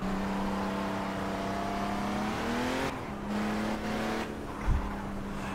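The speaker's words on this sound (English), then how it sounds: "It's a very nice car to drive" Vintage Aston Martin in the racing game Project Cars, its engine droning at a steady pitch, then gear shifts and revs dipping and rising, with a brief low thump near the end.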